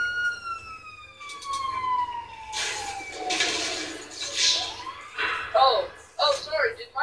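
An ambulance siren in Grand Theft Auto V online wails and sweeps down in pitch, then gives way to bursts of game noise and voices talking over the action.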